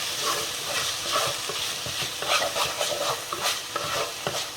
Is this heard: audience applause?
no